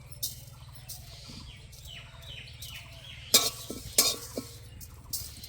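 Whole cumin seeds dropped into hot oil with torn dried red chillies for a vegetarian jackfruit dish, giving soft spitting and crackling, then sharp sizzling bursts near 3.3 and 4 seconds, with a steady low hum and some faint talk.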